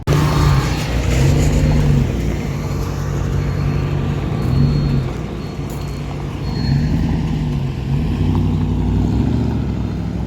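A Dodge Dakota pickup with a freshly installed 3-inch exhaust pulls away onto blacktop. Its engine drones low and steady for about ten seconds, with rising and falling revs as it drives off, and no talking.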